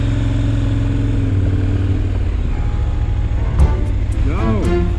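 Steady mid-range engine drone of a touring motorcycle on the road toward a wildfire in Jasper, continuous and fairly loud throughout, with wind rush, a brief knock partway through and a faint tonal whine near the end.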